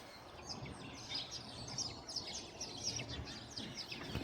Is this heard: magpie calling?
yes